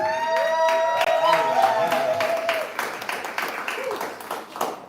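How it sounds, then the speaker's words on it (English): An audience at a live poetry event applauds a poet: a dense burst of clapping and crowd noise that starts strong and gradually thins out, with a sustained tonal whoop or voice over the first half. "Y'all applaud the poet, applaud the poet, applaud the poet."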